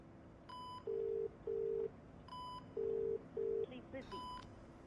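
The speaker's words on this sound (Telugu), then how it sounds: "ఒకసారి ఫోన్ ట్రై చేయి" A phone call connecting on a handset: a series of electronic beeps and steady repeated tones in short, evenly spaced bursts, fairly faint against a quiet background, with no voices.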